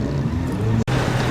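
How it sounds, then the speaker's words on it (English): Vintage Volvo F10 truck engine rumbles at a truck gathering at the Midway Truck Stop, a close, loud low drone with a momentary drop before it carries on. "Volvo F10 picking its way through the chaos."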